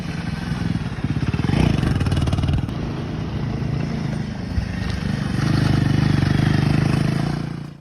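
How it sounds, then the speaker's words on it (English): A Royal Enfield Himalayan 450 motorcycle, a 450cc bike on test in the Himalayas, thumps out a loud, close exhaust note, revving up in pulsing bursts before holding a steady, throbbing drone. "the bike was just seen being tested in the Himalayas, and its exhaust note has been revealed"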